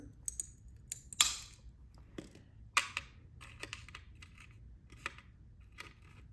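Wheeled mosaic nippers snip through smalti glass pieces in a quiet room: several sharp, separate clicks and cracks spaced irregularly, with faint tinkling of fragments between them.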